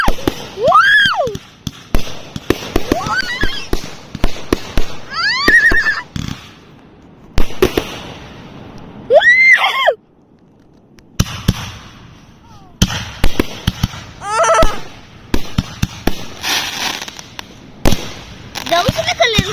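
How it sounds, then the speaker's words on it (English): Fourth of July canister shell fireworks bursting, with loud repeated booms and crackles, whistling rising shells and excited people shouting and talking throughout. "were those the 1, 2, 3 canister shells?"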